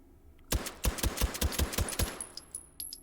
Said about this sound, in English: Let's try the Luger with a suppressor.